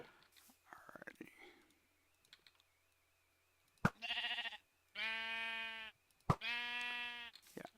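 Sheep in a modded survival video game bleat in several clear, close, harmonic calls, each about a second long, following some faint whispery rustling and a couple of sharp clicks.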